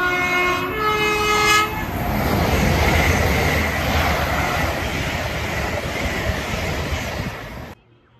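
An LNER Zoomer train sounds a two-tone horn then roars past at Hadley Wood, a loud rushing rumble of wheels and air building close by before cutting off abruptly.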